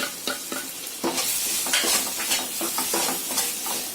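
Prawn gravy masala with cumin and pepper powder being sautéed in a pan, a steady sizzle broken by repeated scraping stirs of the spoon, close and alone.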